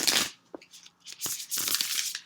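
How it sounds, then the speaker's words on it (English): A deck of tarot cards is riffle shuffled by hand in a quiet room: a crisp fluttering burst at the start, then a few softer taps and a second longer riffle with rapid card clicks. "I rifle shuffle."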